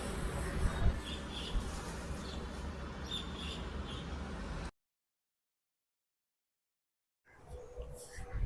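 Assorted birds chirp around garden plants at a new home, scattered calls over a noisy outdoor background that cuts to silence midway and then resumes.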